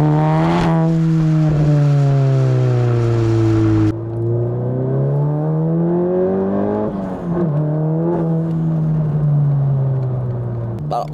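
A Seat Leon Cupra Stage 4 revs hard at close range, its loud engine note climbing and dipping through long sustained pulls while the tyres spin and break loose, with a brief hiss and a sharp drop partway through.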